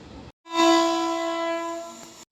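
A train's horn blares loud and close for about two seconds with a rich, steady multi-tone chord, following a brief muffled background noise and a short pause.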